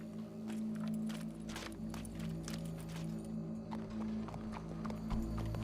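Steady clip-clop of horse hooves walking in Red Dead Redemption 2, with a brief whinny and a low ambient hum underneath.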